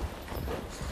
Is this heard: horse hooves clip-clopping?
yes